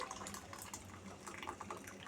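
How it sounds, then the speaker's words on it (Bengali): Homemade chhana, milk curdled for sweets, is poured with its whey into a mug: a faint, continuous watery splashing and trickling runs for about two seconds without any voices. "আমি এরকম একটা মগে ছানাগুলো ট্রান্সফার করে নিচ্ছি।"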